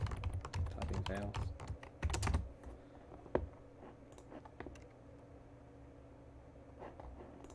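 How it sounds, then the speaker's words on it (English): Computer keyboard typing, a busy burst of rapid clicks early on that thins to scattered keystrokes, fairly close, over a low steady background hum. "Typing fails."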